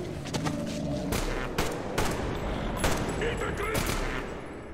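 Gunfire in the shooter Metro Exodus, several sharp, loud shots spaced irregularly over steady background game noise, with a voice talking faintly underneath.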